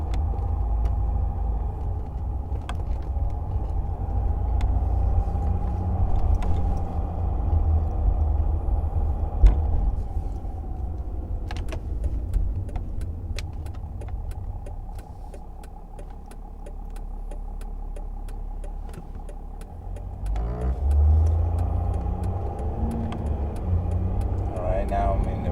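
A 2009 Mercedes E320 Bluetec diesel car drives slowly through a busy plaza, its engine a steady low rumble close by with occasional clicks and a brief surge near the end.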